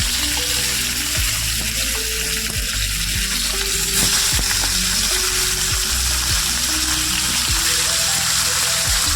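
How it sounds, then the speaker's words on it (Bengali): Salt-and-turmeric-coated pomfret fish frying in hot oil, a loud, steady close sizzle with scattered crackles and pops throughout, no talking. "তেলটা ভালো করে গরম হওয়ার পরে এবার নুন হলুদ মাখানো পমফ্লেট মাছগুলো আস্তে আস্তে"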